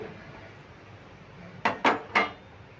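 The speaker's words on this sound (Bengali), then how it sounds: "এবার আমি ঢাকাটা খুলে নিচ্ছি" A cooking pot lid is lifted off after forty minutes of simmering sweet boondi in syrup, giving three quick metallic clinks and scrapes close by against a quiet kitchen background.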